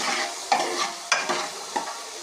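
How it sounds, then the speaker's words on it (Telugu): Onions frying in hot oil in a pan on a stove, a steady sizzle broken by three stirring scrapes spaced about half a second apart, close and fairly loud. "ఆయిల్ ఇలా బాగా మరిగాక ఆనియన్స్ యాడ్ చేసుకోవాలి. ఇప్పుడు బాగా ఫ్రై చేసుకోవాలి."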